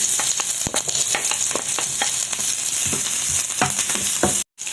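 Onion and garlic sizzle and crackle steadily in hot oil in a pan, with scattered stirring clicks throughout; a brief dropout near the end.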